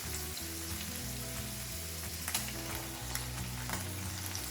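Canned tuna warms in a frying pan with a steady, crackling sizzle, joined by soft scraping and stirring sounds and light background music, with no talk.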